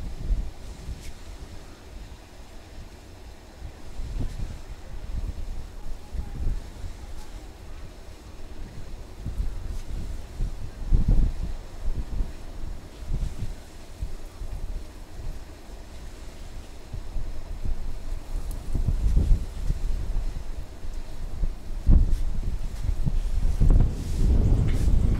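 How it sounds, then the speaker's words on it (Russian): Strong wind buffets the microphone on a high riverbank during a fishing trip, a steady rushing roar with irregular loud low gusts rising and falling throughout. "Не, в такой ветер, конечно, рыбачить это, блин, бесполезно."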